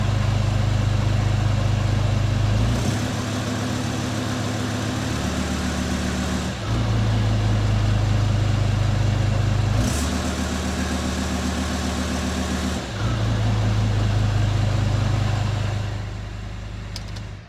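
A VW V10 TDI diesel with a 2.5-inch downpipe dump, settling into a deep, steady low idle, then rising in several stepped blips to a higher idle and dropping back. The engine is loud and close, with no talk.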